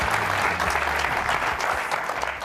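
A studio audience at a BYU basketball coach's show applauds in a dense, steady burst of clapping that fades slightly toward the end.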